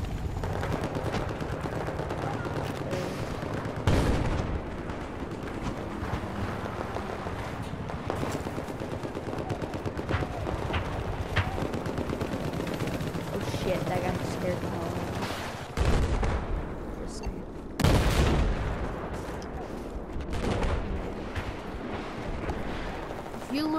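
Battlefield 4 combat with sniper rifle shots and ongoing gunfire, sharp loud cracks standing out over a constant rattle of distant weapons and explosions, with a player talking throughout.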